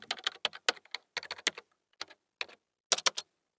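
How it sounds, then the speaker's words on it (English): Fingers type on a government laptop keyboard in quick, uneven bursts of crisp clicks with brief pauses between runs of keystrokes, close and clear with no voices. "typing away on a government laptop"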